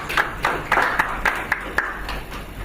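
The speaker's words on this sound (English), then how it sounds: "A warm round of applause for Tobenda, please." An audience at a Nigerian Bar Association legal practice seminar gives a speaker light applause, a short run of scattered, uneven handclaps in a room.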